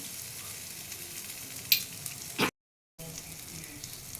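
Egg kabab sizzles in a pan, cooked until charred, a soft steady frying hiss broken by a couple of brief clatters and a short gap of silence.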